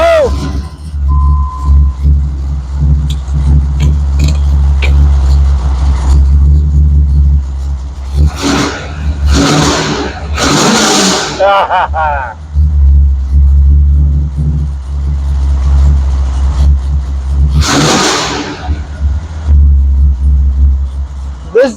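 A 1995 Chevrolet Camaro Z28 engine runs for the first time in 12 years, a loud, steady idle rumble close by, with people talking over it and brief louder bursts.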